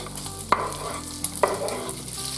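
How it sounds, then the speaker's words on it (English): Bacon and Polish sausage fry on high heat in a pot of bean soup, giving a continuous close sizzle with a couple of sharp utensil clicks as the food is stirred. "Now I will fry bacon. Now I'm adding Polish sausage."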